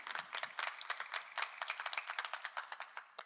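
Church congregation applauding Jesus, a steady run of dense, crisp hand claps at moderate distance, continuous and alone without voices.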